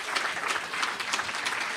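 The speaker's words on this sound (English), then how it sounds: "Let me hear hand claps as loud as you can" A crowd of listeners at a live podcast playdate clap their hands together in a steady, dense burst of applause that holds at an even level throughout, fairly close and with no talking over it.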